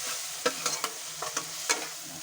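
Masala spices sautéed and stirred in a pan for a rajma and fresh ghevda bhaji, with a steady sizzle broken by several sharp scraping stirs of a spoon against the pan.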